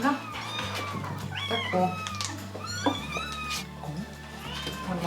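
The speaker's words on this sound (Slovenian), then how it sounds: "Moramo paziti, da mucki ne padejo ven." Kittens meowing repeatedly in high, rising cries while being lifted and placed into a box, close and clear over a low steady hum, with people talking softly in between.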